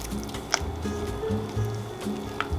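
Simit dough of flour, salt, water and yeast being mixed by hand, with soft, wet squishing and sticky slaps, quiet and close, in irregular bursts with no talk.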